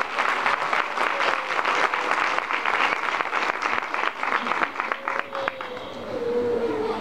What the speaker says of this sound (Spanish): yo le pido un aplauso